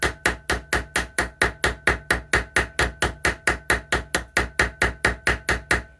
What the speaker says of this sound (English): you just want to sort of just go about tapping that down